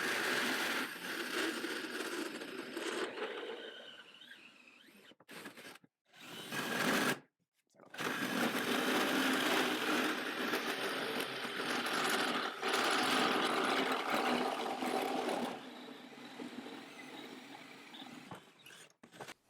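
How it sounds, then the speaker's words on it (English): Power drill with an accessory handle boring a 2-inch hole through wooden framing at high speed, a loud, steady grinding whine that runs for long stretches, briefly stops twice, then resumes and eases toward the end. "when you're drilling a 2-inch hole at that speed, man, you've got to have that accessory handle"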